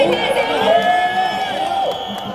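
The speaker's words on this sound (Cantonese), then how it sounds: "可唔可以俾啲歡呼聲佢哋啊？" A crowd cheers and shouts continuously, loud and close, with overlapping voices and whoops.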